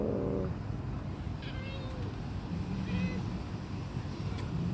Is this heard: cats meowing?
yes